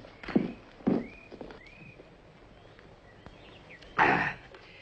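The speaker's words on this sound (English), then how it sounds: "Oh, I'll get my horse." Horse hooves clop a few times at a distance over quiet outdoor ambience, with faint bird chirps between the soft, uneven steps.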